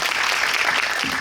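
A cinema audience claps at a Korean film screening with a guest Q&A, a full, even burst of applause from a packed room lasting the whole moment, with no speech over it.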